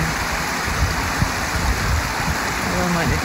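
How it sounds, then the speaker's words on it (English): Running water flows steadily by a pond in Edinburgh, a continuous broad rushing wash close by with faint splashes, while a person speaks softly over it. "So calming, the sound of running water."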